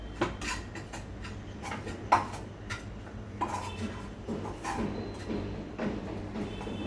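A spoon stirs sweet filling with cardamom powder in a pan over a switched-off stove, giving soft, irregular metallic scrapes and clinks, close and quiet, over low background hum.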